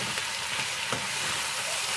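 Chopped little gourd sizzles and fries steadily in a pan, a continuous close crackle with faint stirring scrapes and no voices.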